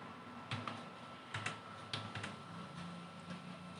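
Keys on a computer keyboard are tapped in a few short clusters of clicks, fairly quiet and close, over a steady low background hum with no talking.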